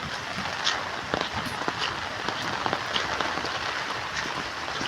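Steady rain drums on an open umbrella, close by, as a dense continuous patter with scattered louder drops and no talking.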